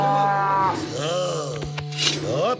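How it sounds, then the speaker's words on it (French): A herd of cows moos in a cartoon, with several drawn-out, overlapping bellows close by, loud and clear with no talk over them. "On a juste encerclé un troupeau de vaches"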